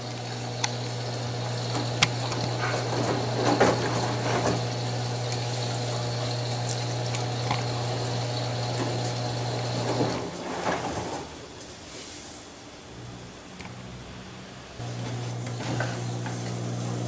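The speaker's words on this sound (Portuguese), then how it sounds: "ela ainda está detectando a sujidade da roupa e ainda está adicionando água" Electrolux Ultimate Care LSW11 washer-dryer adding water during a blanket wash cycle: a steady hum with a low drone and trickling water, fairly close, easing off and quieter midway before picking up again.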